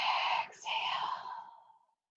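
One long, deep breath during a mat exercise class, a breathy exhale that briefly pauses and then continues to fade out into silence, heard close and alone.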